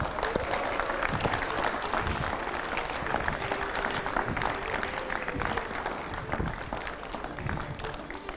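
A crowd of audience members applauds steadily throughout, the clapping dense, sustained and fairly loud.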